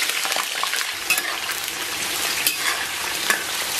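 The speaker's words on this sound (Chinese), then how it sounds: "然后把切好的葱姜给它下到锅中" Chopped scallion and ginger hit hot oil and caramelised rock sugar in a wok, giving a loud, steady sizzle and crackle with brief scraping of a stirring utensil, close and continuous.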